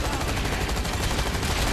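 Dense rapid gunfire rattles in the shooter game Zombies Monsters Robots: Land of the Dead, a continuous loud barrage of overlapping shots filling the whole moment with no pause.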